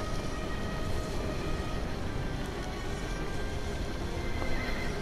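A horse neighs repeatedly in the video game Assassin's Creed Syndicate. Hoof clip-clop and a dense, steady rumble of a passing train run throughout, all loud and close.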